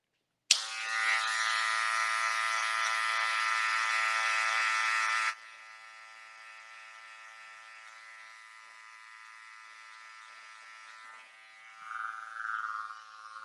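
Electric hair clippers fitted with a number 1.5 guard buzz steadily during a men's textured haircut, loud for about five seconds, then dropping to a quieter, continuous hum with a brief swell near the end.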